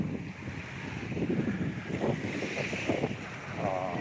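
Ocean waves at Boracay Beach wash in steadily, a continuous broadband roar with wind buffeting the microphone, fairly close and loud throughout with no talking.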